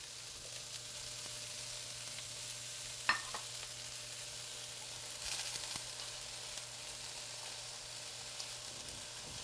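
Peas and spinach stirred into sautéed eggplant in a pan give a steady low sizzle throughout, with a sharp utensil knock near the start and a brief louder scrape partway through; no voices.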